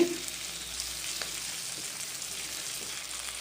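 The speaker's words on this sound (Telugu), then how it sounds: "చేప అనేది బాగా కుక్ అయింది బాగా ఫ్రై అయ్యేయండి" Small fish frying in oil in a pan, a steady close sizzle and crackle with a brief louder spatter at the start, no voices.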